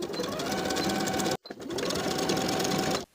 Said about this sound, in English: Using a needle and thread or your main sewing machine, sew that bottom finished edge of the lining to the seam allowance at the side seam where they meet.